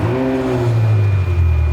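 An exotic car's engine revs up close, a loud, steady growl with rising and falling pitch as the throttle is worked, heard alone without talk.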